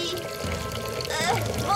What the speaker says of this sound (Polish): woda mi się tu teraz leje, wiesz?